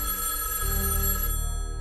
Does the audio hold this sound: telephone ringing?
yes